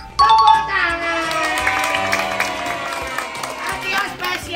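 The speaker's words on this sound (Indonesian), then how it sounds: "Tepuk tangan." Applause and cheering at a children's birthday party with a clown, a crowd clapping steadily throughout alongside bright, ringing musical tones.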